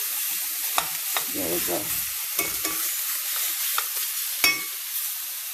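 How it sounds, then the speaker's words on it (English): Spare ribs sear in a hot pan with a loud, constant hiss of frying, broken by a few sharp scraping and knocking bursts as the meat is turned, and one brief spoken remark. "We're going to sear it first to lock the tenderness of the meat."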